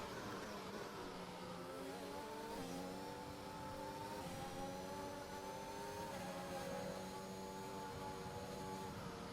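F1 cars race wheel to wheel on the Saudi Arabia circuit in a racing video game, several engines droning and revving together as the cars pass, a steady loud blend with no talk.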